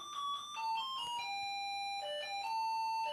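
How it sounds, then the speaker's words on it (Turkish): A chiming electronic doorbell plays a short descending melody of bell-like tones, repeating the phrase twice, fairly quiet and clear with no talking. "zil çalmış."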